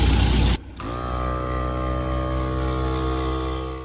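A tyre air compressor runs with the car engine idling, giving a loud, steady mechanical hum with strong harmonics after a brief dip and restart near the beginning, continuing unbroken to the end.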